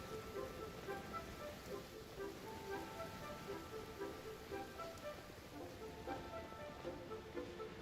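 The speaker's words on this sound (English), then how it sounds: "Oh no, it's raining!" Steady rain falls in a video game, a dense even hiss that runs the whole way, faint and unbroken, with soft tonal game music lying under it.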